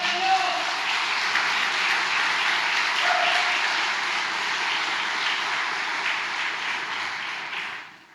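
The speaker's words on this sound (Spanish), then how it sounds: "Dale un fuerte aplauso al Señor." A church congregation gives steady, sustained applause during a sermon, a dense wash of clapping filling the room for several seconds before tapering off at the end.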